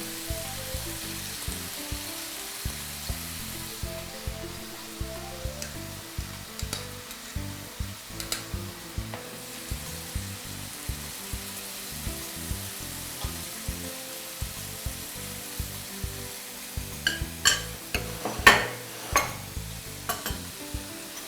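Tomatoes seasoned with salt and black pepper fry in a generous amount of oil in a pan, giving a soft, continuous sizzle with faint stirring clicks and occasional sharper pops, close and fairly quiet, with no voices.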